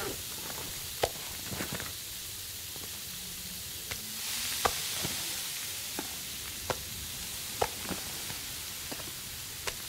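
Meat cooking on a six-piece stove in The Long Dark video game, a quiet steady sizzle with scattered soft clicks and knocks throughout.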